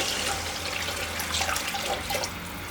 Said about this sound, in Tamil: இந்த கப்புலேயே நான் வந்து 2 கப் அளவுக்கு தண்ணி ஊற்றிக்கிறேன்